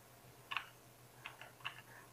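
Typing text on a computer keyboard: a few soft, separate keystrokes, faint and close, spaced by short pauses over a low background hum.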